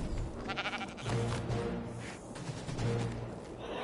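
A black sheep in the video game Ark Survival Evolved bleats repeatedly in wavering calls, layered over busy game sounds and background noise.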